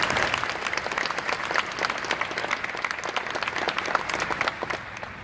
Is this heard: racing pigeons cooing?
no